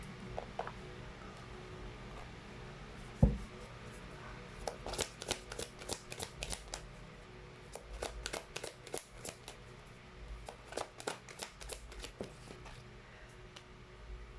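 Tarot cards being shuffled by hand in a pick-a-card reading, with a soft knock near the start followed by repeated crisp riffling flicks in quick clusters, close and alone without talk.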